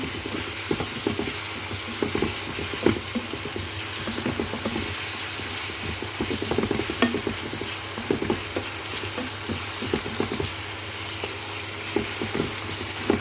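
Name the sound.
stirring onions and tomatoes frying in pan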